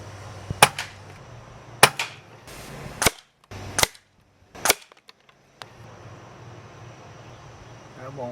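A Gamo Arrow .22 PCP airgun fires about five sharp, close cracks spaced a second or so apart, over a faint steady background hum.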